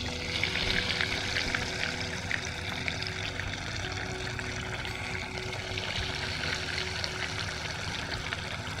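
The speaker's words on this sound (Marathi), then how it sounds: "तेलही तापलेलं आहे. आपण आता हे तळून घेऊया" Sprouted-grain kebabs deep-fry in hot oil on low heat, giving a continuous bubbling sizzle that holds at moderate loudness throughout.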